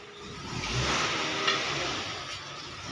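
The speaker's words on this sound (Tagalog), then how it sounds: "Ayan, nire-ready na ang sasakyan." A car engine runs steadily while the vehicle is readied in a rural province, a fairly quiet mid-range hum with a slight swell partway through, with no voices.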